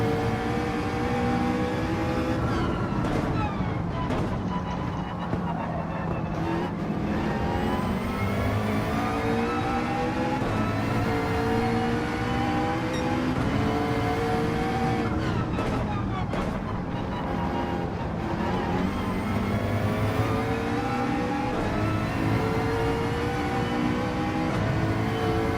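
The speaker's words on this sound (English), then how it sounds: "That car's still a little ways behind me, but yet I can hear his motor." Race car engines in the video game Gran Turismo 7 whine and rise through repeated gear sweeps, a continuous layered drone of motors accelerating and shifting for the whole stretch.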